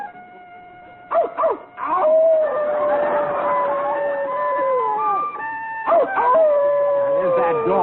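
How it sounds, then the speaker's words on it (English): A dog howls in long, wavering cries, drawn out and fairly close, with a few short yips between, over a busy background of music and people. "There's that dog again."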